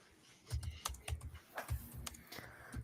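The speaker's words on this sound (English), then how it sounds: "I'm typing to you now." Someone types on a computer keyboard up close during a podcast. The keystrokes come in quick, irregular bursts of soft clicks, quiet and alone with no talking.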